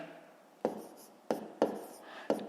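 Numbers being handwritten during long division in a fifth-grade maths exercise: four crisp pen-on-paper strokes spaced unevenly, each a quick scratch that fades, close and quiet with no voices.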